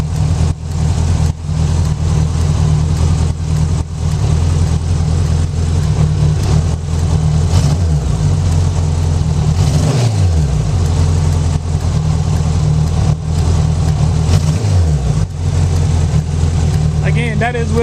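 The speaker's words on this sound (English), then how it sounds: "it accelerates, comes back down like it's running like it ought to run." A 1984 Honda Goldwing motorcycle engine, running without its reed control valve, revs up a few times and drops back to a steady idle, loud and close, with a constant low rumble throughout.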